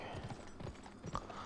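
Horse hooves clip-clopping in the Western shooter video game Gun, a quick, quiet run of uneven hoof beats over a few seconds with soft background noise.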